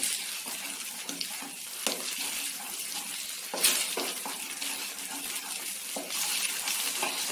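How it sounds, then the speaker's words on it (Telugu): Dry fruit halwa is stirred with ghee in a pan, making a continuous close, wet sizzle and scraping churn with occasional louder splats, with no talking. "ఇలా కలుపుకుంటూ ఉండాలండి."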